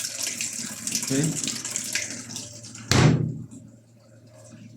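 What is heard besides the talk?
water running into LG washing machine drum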